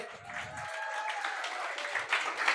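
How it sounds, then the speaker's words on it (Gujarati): A short burst of scattered clapping from a group, fairly faint and uneven, continuing throughout. "એકવાર જોરદાર તાળીઓ થઈ જાય"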